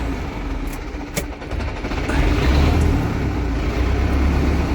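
Zetor 7011 tractor engine running after a gearbox repair with a damaged synchronizer, revving up to a loud, steady rumbling roar that holds close by, with a few sharp clicks early on.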